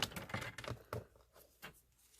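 Paper trimmer blade or scissors cutting cardstock for a folded Miura card, a few short crisp snips and scrapes close by, quiet, with no talking.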